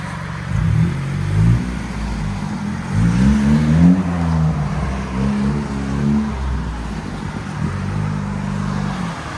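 A turbocharged 1.5L Honda Civic Si with its rev limiter removed revs up and down through several rising and falling pulls. The engine note is close and steady, with no talking.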